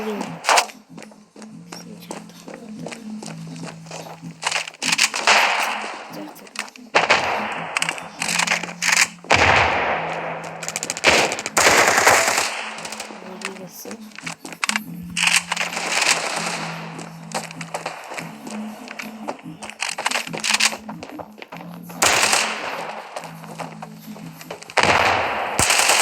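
A gun fires repeatedly while hunting geese, bursts of sharp cracks scattered through a noisy outdoor scene, some loud and close, others fainter. A voice talks intermittently in between.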